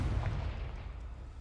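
One Confringo spell explosion in the video game Hogwarts Legacy: a short, deep, muffled boom that rolls off quickly, heard alone.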